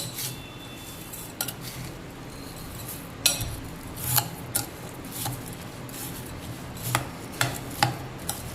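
Maggi noodle bhel is being mixed in a bowl: a spoon scrapes and clinks lightly against the bowl in scattered soft knocks over a quiet background.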